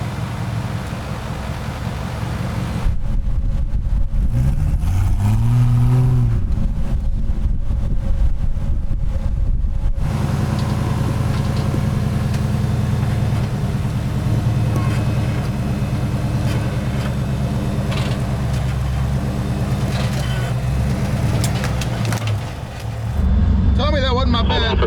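The engine of a massive off-road crawler rumbles and revs at the Great American Crawl in West Virginia. It sounds loud and close, swelling in deep surges amid wind noise, while people talk over it.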